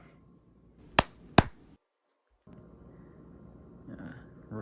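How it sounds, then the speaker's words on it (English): Two sharp, loud hand claps about half a second apart from a Conjuring 3 scene, each a crisp close crack, followed by sudden silence and then a low ambient hum with faint movement. "First clap."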